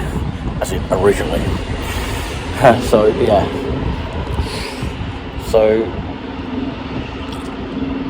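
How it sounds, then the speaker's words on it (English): A bus rolls along a guided busway nearby, a broad engine and tyre rumble swelling and fading under a breezy outdoor background while someone talks in short bursts over it. "the guided busway has just gone there. You can hear the bus going there."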